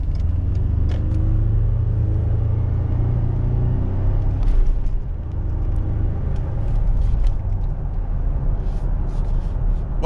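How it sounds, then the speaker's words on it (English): A 2020 Ford Ranger pickup with a four-cylinder EcoBoost engine accelerates, a loud, steady low rumble and drone heard from inside the cab that swells slightly midway, with faint rattles and no talking. "Oh yeah, this EcoBoost pulls very strong."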